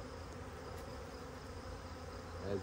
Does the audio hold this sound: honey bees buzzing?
yes